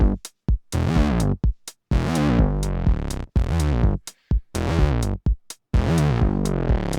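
A synth bassline plays short, loud notes whose filter opens and closes on each one, with portamento gliding between pitches in a choppy repeating pattern, alone.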